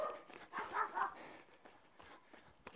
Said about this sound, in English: Dogs going at each other.